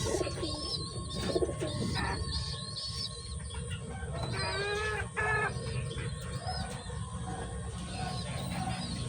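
Pigeons coo repeatedly up close at a loft, soft rolling calls overlapping with scattered chirps from other birds and a constant rustling background.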